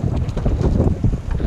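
Strong wind buffeting a microphone on a fishing boat at sea, a steady loud rumbling roar with gusty swells and no voices.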